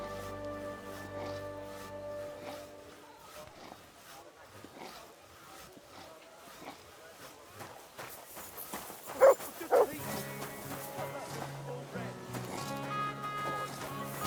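A dog in the medieval role-playing game Kingdom Come: Deliverance II gives two sharp, loud barks in quick succession, with music playing and people talking around it.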